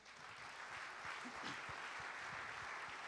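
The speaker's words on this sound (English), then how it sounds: "That's worth a good round of applause, I think." Audience applause at a football league trophy ceremony, as two nominated coaches are acknowledged. It is a steady, dense round of clapping that holds at an even level throughout.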